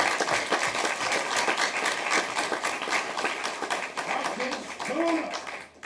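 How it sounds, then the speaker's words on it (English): Audience applause at a school board of education meeting honoring children, a steady sustained round of clapping from a room of people, with brief voices and a faint chirp under the applause. "So give a nice round of applause for all these kids."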